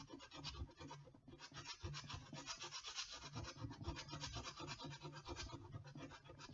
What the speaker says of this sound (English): Bit of sandpaper, who'd have thunk it? Take the glue off the back of the bloody bit of rubber.